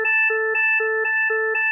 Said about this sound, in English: we can now hit charge. It goes through the same charging sequence